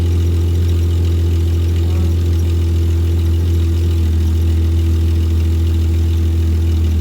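A Jeep Grand Cherokee engine idles with a steady, deep low rumble and constant drone, close and loud, holding evenly without a clear cutoff.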